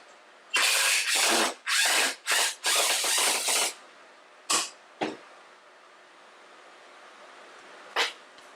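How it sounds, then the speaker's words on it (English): Bolts are taken off a table saw sled with a power driver, several loud close bursts of buzzing whir in quick succession, then a few short isolated zips separated by quiet. "You simply take the bolts off."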